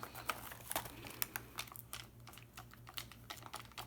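A homemade toilet paper roll shaker filled with jelly beans gives a quick run of soft, dry rattling clicks, close by and quiet, with no voices over it.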